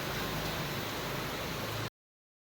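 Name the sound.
heavy rain falling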